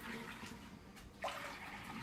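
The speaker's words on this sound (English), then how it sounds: "I'm draining off most of the water" Water is poured off from a pot of naturally dyed eggs, a soft continuous splashing pour with one brief louder slosh, quiet and close, with no talking.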